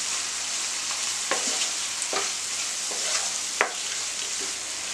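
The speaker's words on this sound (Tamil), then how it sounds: "இப்போ கொஞ்சம் கொத்தமல்லி போட்டுக்கலாம், அதுவும் வந்து நான் கொஞ்சம் வதக்கி விடலாம்." Coriander leaves sizzling as they are sautéed in a pan of kuzhambu, a steady close frying hiss broken by occasional scraping taps of a stirring spoon, with no talking.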